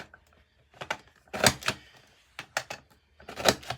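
A border maker punch cuts a scalloped heart border into paper, giving a series of sharp clacking punches in small clusters, close and fairly loud with quiet gaps between them.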